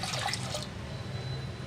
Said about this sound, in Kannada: 1-2 ಗ್ಲಾಸಷ್ಟು ನೀರು ಹಾಕೊಳ್ಳೋಣ